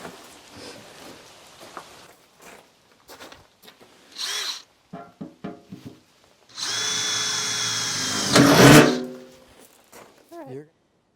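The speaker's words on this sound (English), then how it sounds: "and Lincoln has to drill some holes so I can plant little flowers" A power drill whirs in a loud burst lasting about two seconds, revving up before stopping while drilling holes in a garden planter, with short bursts of nearby speech and handling noises around it.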